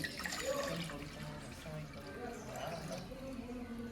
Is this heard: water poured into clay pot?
yes